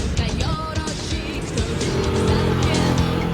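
Motorcycle exhaust with a silencer fitted being revved, a close engine tone rising and wavering over a few seconds, muffled but steady, with some background noise.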